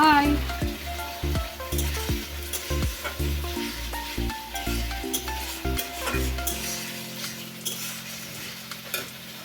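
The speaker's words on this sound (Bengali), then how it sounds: "মা মশলাটা কষাচ্ছে ছোট ছোট করে আলু দিয়ে" Spices and small diced potatoes frying in a pan for fish-head curry, loud sizzling under rhythmic spoon-and-pan stirring strokes that ease off toward a quieter simmer.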